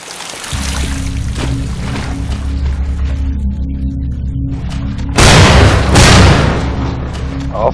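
A gunshot striking wood in the video game Estranged: one loud, sharp blast with a rough, crackling decay bursts out after a stretch of low, droning game ambience.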